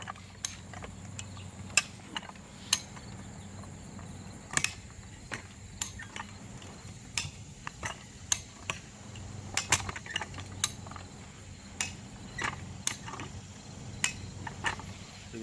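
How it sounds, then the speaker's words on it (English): Mechanical clicking of a jack ratcheting a concrete fence post up out of the ground, with sharp intermittent clicks and clinks at an irregular rhythm over a low steady background hum, close and fairly loud. "the next thing we're going to do is start jacking away"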